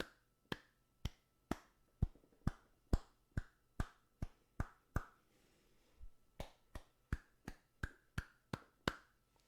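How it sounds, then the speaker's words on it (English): Sharp hand claps into a Thronmax Mdrill One microphone, repeated in a steady rhythm, close and loud, with a brief pause midway before the claps resume. "As you can hear if I just clap."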